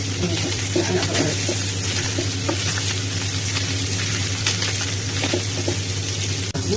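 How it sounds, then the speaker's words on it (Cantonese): Small yellow croaker fish fry over high heat in a pan, a loud continuous sizzle with crackling bursts and a steady low hum throughout, no voices. "我哋繼續煎呢邊，好，開翻大個火"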